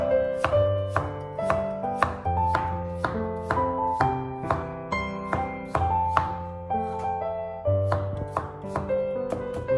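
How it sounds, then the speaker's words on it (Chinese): A knife slices a peeled celtuce stem into thin slices on a cutting board, giving about a dozen crisp, evenly spaced chops with ringing thuds, close and steady, and no one speaking. "先切成薄片，不一定要切得太薄，但尽量切均匀一些"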